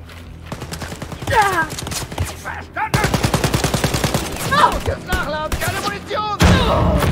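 Rapid bursts of diesel-weapon gunfire from Wolfenstein: Youngblood, loud and close, with stuttering shots layered over game music and vocal effects.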